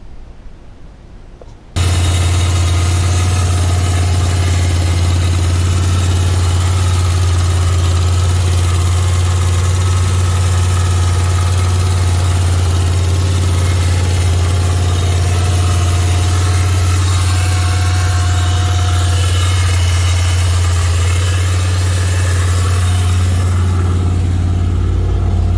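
A 1991 Chevy 1500 engine, freshly repaired cam bearing, cranks and fires after a brief quiet moment, then settles into a loud, steady, low rumbling idle that holds for the rest of the span with no talking.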